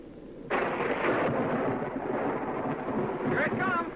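Thunder opens with a sudden loud crash and then rolls on as a steady rumble, a brief brighter crackle near the end, in an old 1939 comedy film soundtrack.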